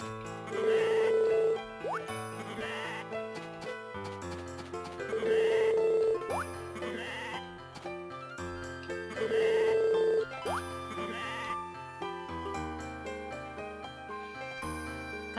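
Sheep bleat inside a barn, three loud bleats at roughly even intervals, each followed by quieter stretches with a steady tonal backdrop and no talking.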